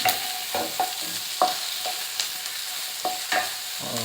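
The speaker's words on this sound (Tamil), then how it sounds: "இப்போ நம்ம இந்த கேரட்டையும் குடமிளகாயும் சேர்த்துக்குவோம் நல்லா வதக்கிடுவோம்" Carrot and capsicum sautéing with onions in a pan, a gentle hiss of frying punctuated by several brief scraping strokes of a spoon at uneven intervals, close and moderately quiet, no talking.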